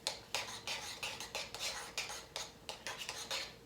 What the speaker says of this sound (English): stir it up a little bit more.